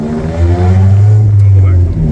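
A 1997 Honda Civic engine with rod knock, running loud and close with a low, steady drone that holds at one pitch and then shifts slightly, no voices over it.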